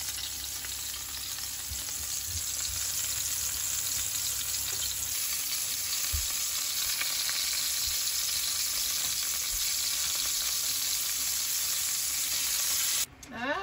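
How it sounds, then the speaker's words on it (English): Trevally fish cakes made with red curry paste, garlic, lemongrass, fish sauce and lime fry in sesame oil, a loud, continuous close sizzle that holds steady throughout and is briefly disturbed near the end. "I'm just gonna roll them into little balls and fry them up."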